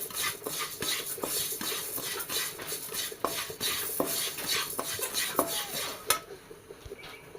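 Raw rice being roasted and stirred in a hot kadai, with continuous scraping and rattling of a metal utensil against the pan and grains, steady and close, with sharper clinks now and then.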